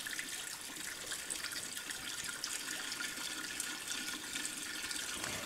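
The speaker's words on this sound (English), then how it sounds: "so let's turn on our aspirator" Water aspirator running on a lab tap in a chemistry lab gas-laws experiment, a steady hissing rush of flowing water, fairly close and continuous with no speech.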